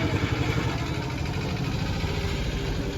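A motorcycle engine idles with a steady close throbbing rumble and mechanical vibration, constant and loud, with no voices heard.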